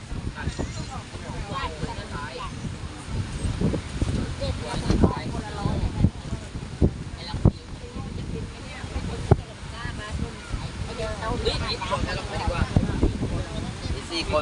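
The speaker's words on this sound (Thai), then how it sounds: "ลมแรง" Strong wind at Bang Saen beach buffets the microphone in a steady broadband roar with gusty bumps, waves and surf beneath, while people talk throughout.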